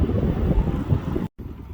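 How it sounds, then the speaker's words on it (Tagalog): Strong wind roars and buffets the microphone in a steady low rumble while riding an electric scooter, cutting out briefly near the end before picking up again. "Sa sobrang lakas ng hangin"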